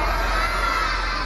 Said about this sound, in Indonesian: Harusnya berteriak minta apa? Ayo dibantu Hita